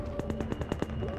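Rapid automatic gunfire in the video game Half-Life 2, roughly eight quick evenly spaced shots in a burst, moderately loud over a steady game background hum.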